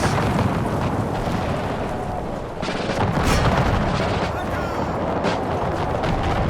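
Massed grenadiers in the battle game Empire: Total War fight amid dense, continuous gunfire and booming explosions, a thick roaring battle din with sharper blasts cutting through.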